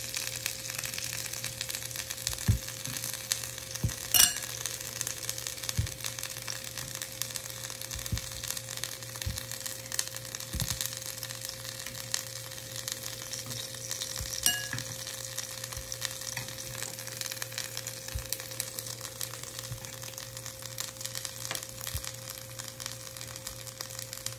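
Steady crackling sizzle of potato balls frying in olive oil with garlic, continuous and close, with occasional louder pops and a faint low hum underneath.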